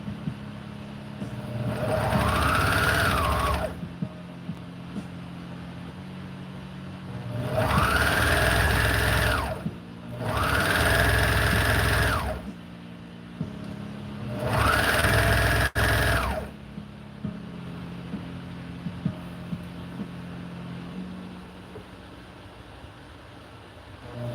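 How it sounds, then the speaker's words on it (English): A serger sewing machine stitches fabric for a DIY cosplay duster, running in three loud sustained bursts of several seconds each with a droning motor whir and quieter pauses between. "I'm not pulling as I'm serging."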